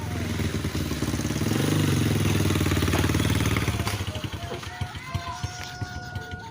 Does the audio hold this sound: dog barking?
no